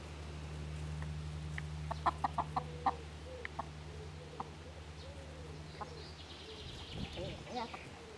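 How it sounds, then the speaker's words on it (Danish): Hens kept for training puppies to herd cluck and call in short bursts across a farmyard, faint and scattered, over a low steady hum, with some movement noise near the end. "Ja, det er høns."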